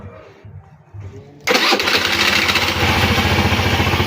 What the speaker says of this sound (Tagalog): So ipakinggan nyo na maigi yung magiging tunog ng starter.